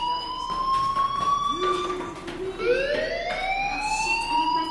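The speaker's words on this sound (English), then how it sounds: "do you hear that fire alarm?" A fire alarm rings in the video game Life is Strange 2: a steady electronic tone with harmonics that dips and then climbs again, sounding continuously at an even level.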